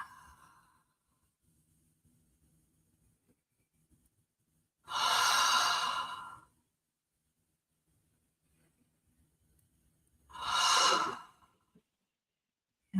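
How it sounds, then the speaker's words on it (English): Two slow, deep breaths heard up close in a quiet room, each a long airy exhale lasting about a second and a half, separated by several seconds of near silence. "Breathing in through the nose, filling up without holding, then emptying from the top down."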